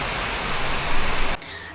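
A dense, hissing downpour of heavy rain in Vietnam, loud and uniform, cutting off abruptly near the end.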